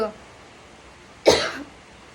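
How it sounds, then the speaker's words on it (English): A single sharp cough close to the microphone, brief and loud against a quiet background. "I got a cough in, just give me a moment"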